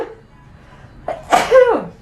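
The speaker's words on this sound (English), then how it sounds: "I'm going to sneeze." A single loud, close human sneeze, a brief sharp intake followed by an explosive burst, heard alone.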